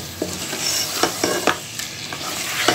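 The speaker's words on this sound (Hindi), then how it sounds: "अभी 5 मिनट इसी में मैं पकाऊंगी।" Bhuna mutton roasting in a pan gives a steady sizzle and fry, broken by several sharp scraping stirs spread through the clip, with no one speaking.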